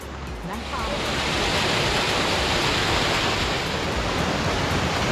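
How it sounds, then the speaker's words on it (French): At the top of a hiking trail near Banff, a waterfall roars just behind the listener as a dense, constant wash of rushing water that stays loud and steady throughout. "On a les chutes du Niagara juste en arrière de nous."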